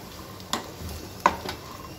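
Onions and black-eyed peas fry softly in a pan, a low sizzle broken by a few light stirring scrapes and utensil taps.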